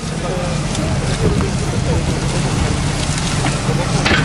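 A Ukrainian-made disc stubble cultivator working a field at 8 cm depth during a hot-weather machinery demonstration, making a steady, loud low rumble of tractor engine and churning discs without a break.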